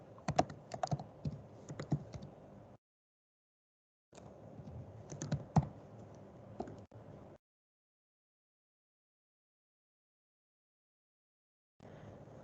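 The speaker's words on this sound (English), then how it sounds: "I'll just type here hemoglobin" Typing on a computer keyboard to enter a search term into a protein database, in quick clattering bursts of keystrokes separated by silent pauses, close and clear with no voices.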